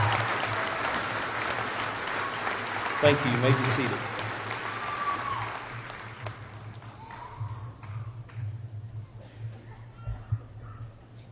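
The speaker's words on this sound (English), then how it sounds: "Let's give these seniors a round of applause." Audience applause at a 2018 high school graduation honoring scholarship-winning seniors, clapping that tapers off over several seconds while a speaker addresses the crowd over it.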